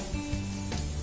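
Hot oil sizzles in a pan while frying for a Maharashtrian veg thali, giving a close, continuous hiss with a brief burst of spattering near the end.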